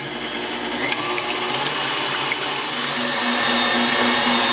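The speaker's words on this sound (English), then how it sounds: "Just whisk it on high." Continuous high-speed whirring of a stand mixer with whisk attachment whipping cream on high, a steady motor drone without pauses or talk.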